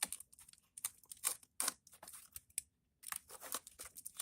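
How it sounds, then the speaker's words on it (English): A utility razor knife with a fresh blade trims foam and reflective Mylar insulation for a DIY insulated feral cat shelter. The cuts come as close, crisp, irregular slicing and tearing strokes separated by short quiet gaps. "Just take your razor knife."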